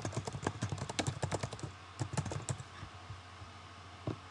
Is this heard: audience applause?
no